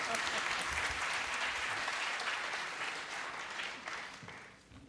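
An audience at a gathering breaks into loud, sustained applause that stays dense at first and then gradually thins and fades toward the end.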